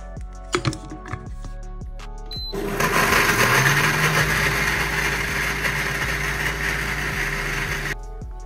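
A blender grinds panjiri ingredients, whirring loudly for about five seconds after a few clicks and knocks, a steady high-pitched grinding roar that stops abruptly.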